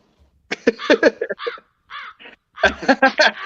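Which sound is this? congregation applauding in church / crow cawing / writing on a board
crow cawing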